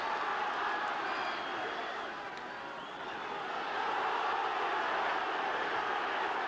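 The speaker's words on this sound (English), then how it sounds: "you can, I'm sure, hear the crowd and sense the tenseness of the situation" Stadium crowd at the 1979 John Player Trophy rugby league final between Warrington and Widnes, a steady broad roar and murmur from a large mass of spectators, sustained throughout with a slight dip in the middle.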